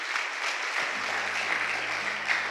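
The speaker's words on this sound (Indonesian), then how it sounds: "Tepuk tangan bagi Tuhan Yesus, haleluya, amin." A church congregation applauds in praise during a sermon, a steady wash of clapping held at an even level for a couple of seconds, with faint low tones underneath.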